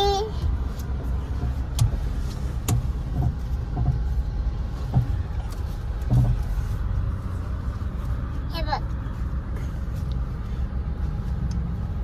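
A car is driven along a road, with a continuous low engine and road rumble, occasional clicks and knocks, and people talking over it.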